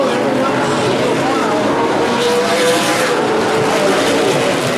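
Super late model race cars roar around Evergreen Speedway during a 50-lap main event, engines blaring loudly and continuously with tire noise as the pack runs through a turn, a race announcer talking over the din.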